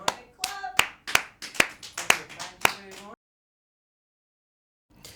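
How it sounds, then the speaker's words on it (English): Sharp hand claps ring out at a student showcase, about nine distinct claps in quick, slightly uneven succession. They stop abruptly into silence, and a faint sound returns at the very end. "Okay, clap."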